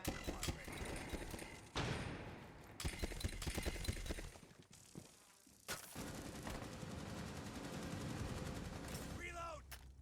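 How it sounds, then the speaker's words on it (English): Gunfire bursts in an esports video game match, with dense rapid shots and thuds, an explosion-like blast, and bursts recurring throughout under continuous fast commentary. "That's a little bit of friendly fire from Ryda there."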